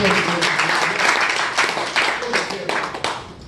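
Brief burst of encouraging applause for a pastor at a classmates' gathering, a dense mass of hand claps in uneven surges, close and loud throughout.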